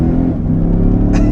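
Lexus LX 600 with a 10-speed automatic pulling hard under full throttle, a dense close engine and drivetrain rumble holding steady and loud through the short burst, with a brief hiss near the end.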